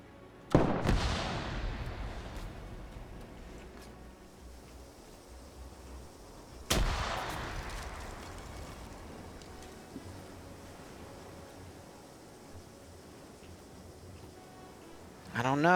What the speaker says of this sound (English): And you still hear those guns firing.